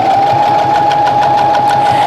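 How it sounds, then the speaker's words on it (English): A Tajima Sai 8-needle computerized embroidery machine stitching a strip onto a hand towel runs at medium speed, a steady mechanical whir with a constant tone and rapid regular needle ticks, no voices. "with this being a computerized sewing machine, it will control the speed"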